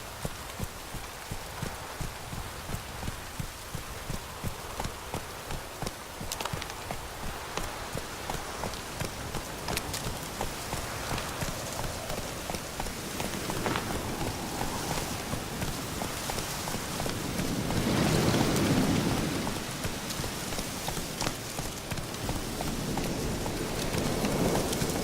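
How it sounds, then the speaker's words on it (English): Heavy rain pours down steadily in The Witcher 3, a dense even hiss filling the scene for the whole stretch, with horse hooves clip-clopping underneath and a brief louder swell near the end. "This downpour's a bastard,"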